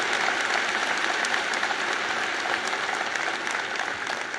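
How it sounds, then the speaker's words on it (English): Sustained applause from a large audience at a University of Alabama commencement ceremony, a dense steady clatter of clapping filling the whole stretch without letting up. "So I would like to get a round of applause for Dr. Bell for 10 years of tremendous serv"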